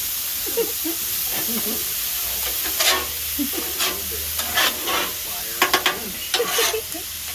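Peppers for fajitas cooking on a 22-inch Blackstone griddle, a constant close sizzle and hiss with repeated spatula scrapes and taps, and occasional murmured voices.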